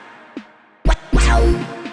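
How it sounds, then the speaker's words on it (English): A 606 snare sample in an electronic dance track fires as a few sharp, separate hits with sustained background effects between them, loud and up front with no voices. "I added a little 606 snare that sounds like this"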